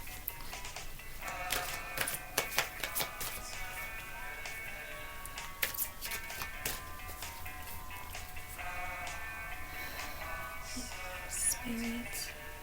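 Tarot cards are shuffled by hand, giving a soft run of papery flicks and sharp clicks with brief pauses. The sound is faint, close and without speech.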